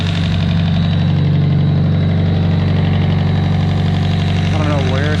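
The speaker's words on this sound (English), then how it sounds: "Now I'm just hearing the injectors firing." A Nissan S15 engine idles steadily and loudly up close, a constant deep hum with a fine rapid ticking of the injectors firing throughout, and a brief voice near the end.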